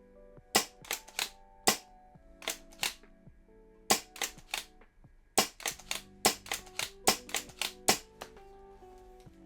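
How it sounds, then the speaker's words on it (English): An S&T 870 airsoft shotgun, all wood and all metal, cocked and fired repeatedly, giving a string of sharp, loud clacks and snaps in uneven bursts with short pauses between them, close up and without talk. "The cocking in this gun is not very good."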